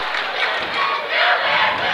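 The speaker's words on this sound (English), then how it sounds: "The crowd's starting to come alive a little bit more as the intensity ramps up" A crowd roars and cheers in a gym during a high-school basketball regional championship between BC and Illini Bluffs, loud and steady from all sides with swells of shouting.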